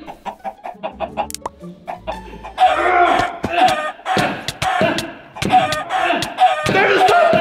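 A chicken in a Minecraft-style game clucks and squawks loudly, followed by a run of repeated knocking thumps and clucks, with brief game sounds at the start.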